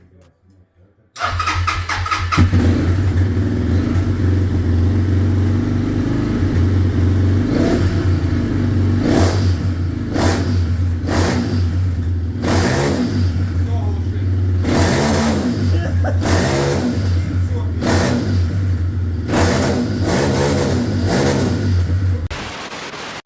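A freshly tuned carbureted car engine cranks and fires up after a second of quiet, then idles roughly while being revved in repeated loud bursts, with people talking nearby.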